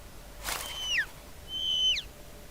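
Two short descending whistled bird calls, about a second apart, from an RPG Maker horror game, clear and fairly close over a faint background hiss.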